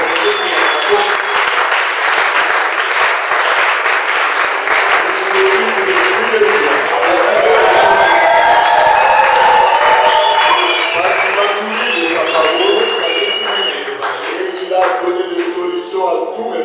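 A French-speaking church congregation breaks into sustained applause and acclamation, loud continuous clapping mixed with cheers and raised voices, carrying on steadily for well over ten seconds.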